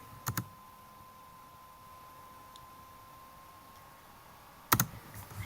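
Two separate computer keyboard and mouse clicks, one near the start and one near the end, crisp and close, with near-silence between them during an animation tutorial.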